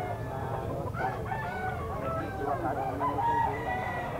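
Young gamecock stag crowing at a pet market, a loud, close crow amid clucking fowl and market background, with voices talking underneath.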